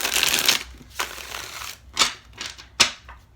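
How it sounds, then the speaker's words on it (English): A deck of tarot cards is shuffled by hand, a few separate riffling and sliding bursts with soft gaps between them, close and fairly quiet, with no talking. "I've shuffled pretty extensively, but I'll shuffle a few more times."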